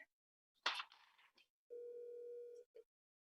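A phone call connects with brief clicks and bursts of noise, then a single steady electronic tone holds for about a second before a short final blip, quiet and isolated.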